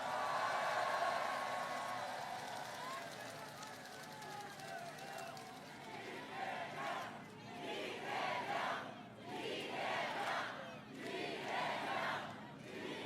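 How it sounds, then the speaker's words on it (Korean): A large crowd at a political campaign rally in Bupyeong cheers and shouts in surging waves, rising and falling repeatedly, with a voice talking over the crowd at the start. "함께한 동지들을 위해서 박수 한번 부탁드립니다."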